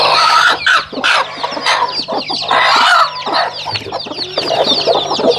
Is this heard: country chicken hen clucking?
yes